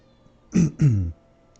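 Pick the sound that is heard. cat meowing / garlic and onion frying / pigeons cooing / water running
cat meowing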